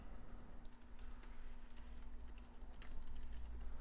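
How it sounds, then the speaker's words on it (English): Soft, rapid keyboard typing clicks along continuously beneath a steady low hum, faint and close by. "If you do hear typing, that is just me making alerts to my private community."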